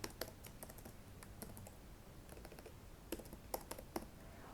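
Quiet, irregular clicks of typing on a computer keyboard, close and soft, in short clusters with pauses and no talking.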